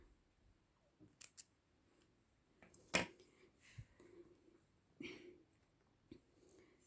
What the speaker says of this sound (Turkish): ve ipimi de kesiyorum.